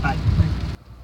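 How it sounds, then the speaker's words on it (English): Rain falls steadily during an evening storm, a dense close patter with low rumbling underneath, cutting off abruptly near the end and leaving a faint quiet tail. "you'll probably hear the pitter patter of the rain a little louder"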